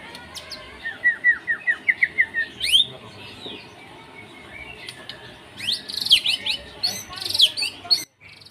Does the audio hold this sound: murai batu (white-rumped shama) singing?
yes